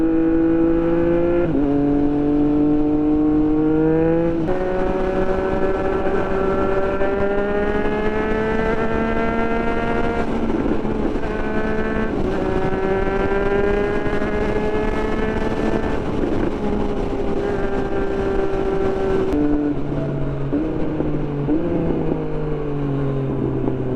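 A 2024 Triumph Street Triple 765 RS motorcycle weaving through traffic, its engine droning loud and close with pitch rising and falling through repeated gear changes and throttle surges, no talking.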